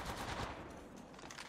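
Gunfire in the mobile battle royale Apex Legends Mobile, a brief, dense burst of rapid automatic shots fired close by and loud, with no voices.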